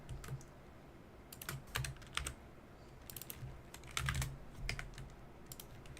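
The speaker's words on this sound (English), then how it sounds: "typing the trait name" Steady computer keyboard typing runs throughout, with bursts of quick keystrokes and short pauses, close and fairly quiet, no talking.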